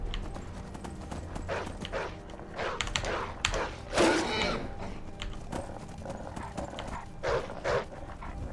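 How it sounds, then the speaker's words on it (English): Rhythmic clip-clop of horse hooves in the video game Skyrim plods along at a moderate pace, with a snort or whinny midway and some faint background noise. "Guys, why won't the horse run?"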